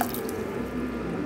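Water runs and splashes as it is poured into a pressure cooker on the stove while chickpea curry is cooked, a short steady trickle.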